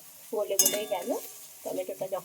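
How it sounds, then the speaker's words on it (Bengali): Spice paste with tomato being stirred and fried in a pan for a neem leaf recipe, giving a close sizzle with scraping stir strokes in two bursts separated by a brief lull. "এবার দেখো মশলাটা একটু ভালোভাবে আমি নেড়ে চেড়ে নেব"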